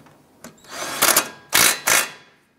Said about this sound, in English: Go ahead and tighten that down.